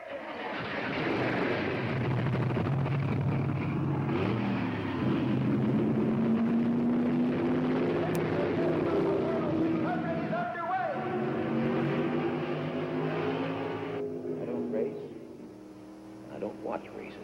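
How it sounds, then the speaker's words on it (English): Several NASCAR race car engines fire up and rumble loudly together, a dense, continuous roar with rising revs, under occasional voices. "Gentlemen, start your engine!"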